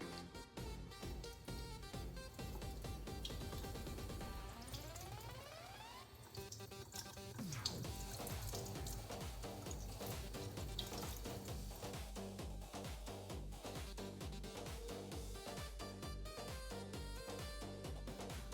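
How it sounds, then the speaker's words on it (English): Tap water runs over Phalaenopsis orchid roots held under a faucet, a steady splashing stream with wet drips and shifting splatter as the roots are turned and rinsed, close and continuous. "Now we can wash the orchid and the roots under the faucet."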